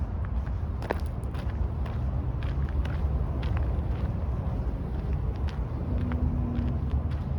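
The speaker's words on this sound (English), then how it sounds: "They designed it so that the traffic noise gets muffled when you're walking through the underpass." Dull, continuous rumble of road traffic muffled inside a bridge underpass near a forest in Etobicoke, a steady low roar with a few faint scuffs and taps passing through.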